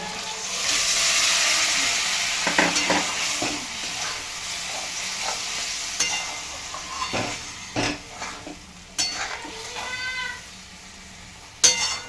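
Soaked paneer pieces tipped into a pan of frying masala for capsicum paneer, a loud sizzling rush at first that settles into a quieter crackle with scattered stirring scrapes and clinks, no voices.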